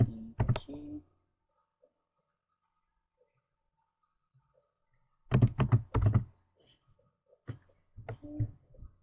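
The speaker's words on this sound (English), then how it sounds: "So I'm just gonna type in REG." Short bursts of keystrokes on a computer keyboard while typing into the Windows registry editor, close and crisp, separated by a long quiet gap; a voice may sound faintly between bursts.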